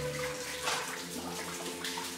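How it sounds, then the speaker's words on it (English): Water flows and splashes steadily over old timbers inside an abandoned gold mine, a continuous rushing wash with a faint low hum running beneath it. "There's the water flow through the timbers."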